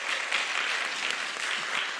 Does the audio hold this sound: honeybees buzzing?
no